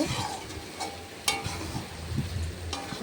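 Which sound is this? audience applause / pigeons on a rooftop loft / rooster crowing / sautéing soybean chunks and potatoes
sautéing soybean chunks and potatoes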